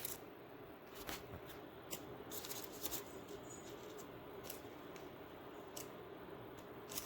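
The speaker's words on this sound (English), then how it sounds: "slowly peel the paper." Baking paper is peeled slowly off a baked sponge roll cake, giving quiet, close crinkling and papery rustles with scattered soft clicks. No one speaks.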